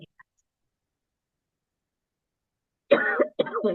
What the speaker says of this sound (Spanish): porque justo me agarra la tos